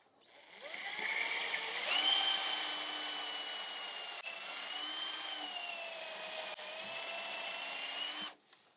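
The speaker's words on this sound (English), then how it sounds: "So what I'm going to do is I'm going to drill in a slight angle up to about where my tape line is here." A power drill bores an upward-angled tap hole into a maple tree trunk for collecting sap. The steady, high whine runs close and loud for about eight seconds, then cuts off, with no talking.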